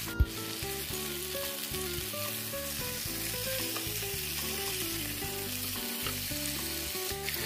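Chicken grilling in a pan on a home kitchen stove gives a constant hissing sizzle that holds steady throughout, partly masked by tonal background music playing over it.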